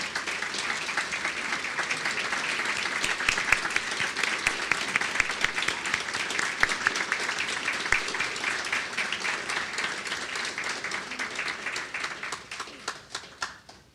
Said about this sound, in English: just so we can give you a quick round of applause.